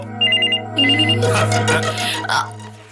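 An electronic phone ringtone plays in two short bursts of high repeating beeps, close and clear, before voices start talking over a steady low hum in the room.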